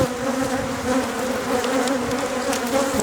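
Honeybees fly in and out at a hive entrance, their dense, steady buzzing drone swelling and fading slightly as individual bees pass close by, with no voices.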